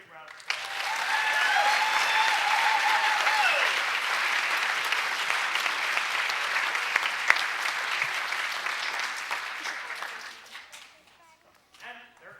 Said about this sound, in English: So let's give them another big round of applause.